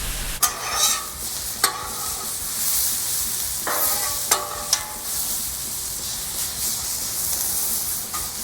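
Philly cheesesteak vegetables fry on a Blackstone griddle with a steady close hiss of sizzling, broken by several sharp scraping clicks of a spatula stirring them across the hot surface.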